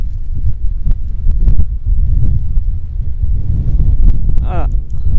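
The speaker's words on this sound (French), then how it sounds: "Par contre, il y a encore beaucoup de vent." Strong wind buffeting the microphone on a remote dirt track in open country, a loud continuous rumbling roar throughout, with a brief voice near the end.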